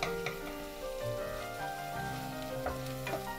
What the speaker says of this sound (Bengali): গরম তেলে দিয়ে দিলাম। আগে দেবার কারণ হলো রসুন।